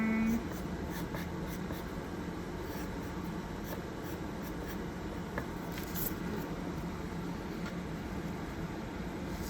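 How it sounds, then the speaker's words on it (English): Pencil scratching across paper while sketching leaves in a tree-branch drawing, a soft, steady scribbling texture of short strokes that carries on quietly and close for nearly ten seconds. "I'm gonna add some more leaves here in the corner of the paper."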